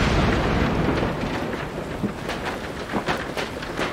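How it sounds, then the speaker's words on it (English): Steady heavy rain pours down in a storm around a treehouse, a dense continuous wash with a few soft rumbling swells, no voices. "It's raining! Should we be up in a tree during a storm?"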